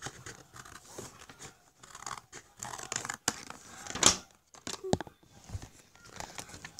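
Scissors cutting along a line through crafting material, a steady run of soft snips and crinkly paper rustles close up, fairly faint, with quiet background noise throughout.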